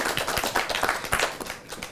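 An audience at a Hindi poetry recitation gathering claps in brisk, uneven bursts, the sharp hand claps fairly close and fading toward the end.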